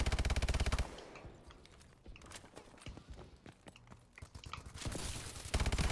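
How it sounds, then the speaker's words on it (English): Rapid bursts of automatic gunfire in the Call of Duty Advanced Warfare video game, loud volleys at the start and end with scattered shots and clatter between. "Somebody's shooting right now."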